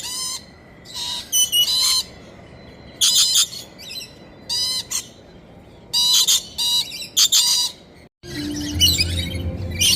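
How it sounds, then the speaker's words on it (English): Lorikeets chirp and squawk in bursts within the Lorikeet Glen aviary at Busch Gardens Williamsburg, with shrill calls coming in repeated clusters over a steady background hum and a low rumble near the end. "Lorikeets are as chirpy as ever."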